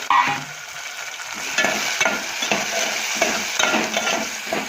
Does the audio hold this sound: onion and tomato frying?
yes